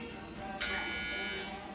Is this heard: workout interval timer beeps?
yes